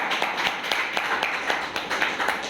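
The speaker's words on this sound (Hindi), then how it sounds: "उनको एक बार जोरदार तालियों के साथ धन्यवाद करते हैं।" A small group at a business team meeting claps for a couple of seconds, individual hand claps distinct and fairly steady in rhythm, close and moderately loud.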